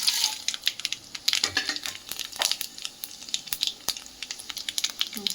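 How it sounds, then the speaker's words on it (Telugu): Crackling and popping of mustard seeds, cumin, urad dal and chana dal spluttering in hot oil, rapid irregular snaps over a soft sizzle. "ఆవాలు జీలకర్ర మినప్పప్పు శనగపప్పు పోపు గింజలు వేసుకుందాం"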